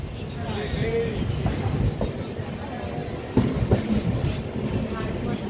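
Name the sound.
passenger train departing Warangal station, running on tracks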